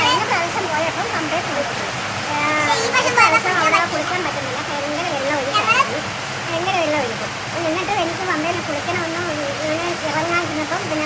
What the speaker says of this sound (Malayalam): മഴയുടെ സൗണ്ട് കേട്ടോ ഇവിടെ അല്ലേ